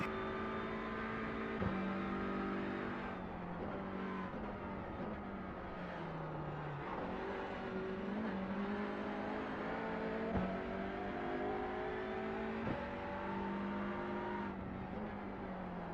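Race car engines from the Grid Rivals racing video game drone steadily and loudly throughout, with rising and falling revs and gear changes from close by and no talking.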